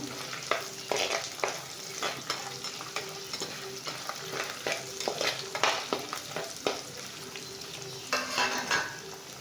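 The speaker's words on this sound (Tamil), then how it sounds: "நல்லா கொஞ்சம் வதங்கினதும் எடுத்து அரைச்சி இதை தனியாக எடுத்து வச்சுருக்கணும் இன்னும் நல்லா வதங்கட்டும்" Garlic and onions sauté in hot oil for a garlic thokku, a steady close sizzle broken by frequent sharp scrapes and clicks of a spoon stirring the pan.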